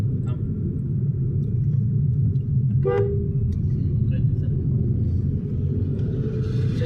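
A car engine rumbles steadily as the vehicle drives along a road, with a brief horn toot partway through and traffic noise around.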